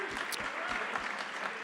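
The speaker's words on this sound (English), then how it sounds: "Round of applause for all of you." A short burst of audience applause at a social equity gathering in New York, steady dense clapping from a crowd throughout, moderately loud with no talk over it.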